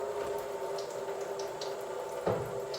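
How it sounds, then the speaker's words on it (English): Tap water runs steadily into a kitchen sink while hands are washed, a faint continuous splashing hiss with one brief louder splash near the end. "Of course, I got to wash my hands first."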